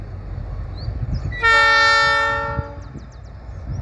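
A GAIA 1350 diesel locomotive horn blasts loudly for about a second and a half over low rumbling background noise, then cuts off, leaving faint ambient sound.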